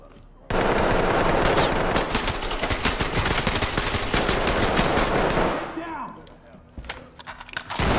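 Rapid automatic gunfire in the tactical shooter Ready or Not, with dense, loud bursts of close shots running for several seconds before thinning into a few scattered reports, with voices faintly underneath.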